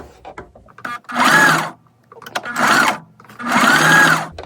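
A sewing machine stitches along the seam of a fabric XXL scrunchie in three sustained whirring bursts separated by short pauses with small handling noises, close and fairly loud.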